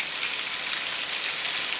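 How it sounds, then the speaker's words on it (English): Meatballs fry in hot oil in a pan, giving a dense, even sizzle that crackles continuously up close at a steady loudness, with no talking over it. "So yeah, it's just regular frying technique."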